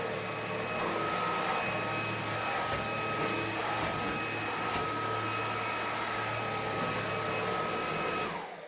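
Illuminated vacuum cleaner running at its third speed, a steady loud whirring drone with a constant tonal hum that holds evenly before cutting off at the end, no voices.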